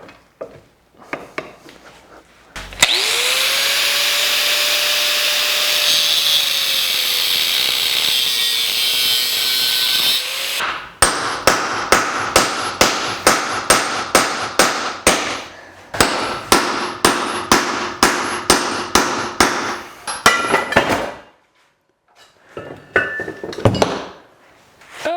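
Power tool grinding into a car torque converter with a lockup clutch inside, a steady loud whine for several seconds, then a long run of rapid, evenly spaced impact bursts ending in a few scattered clanks.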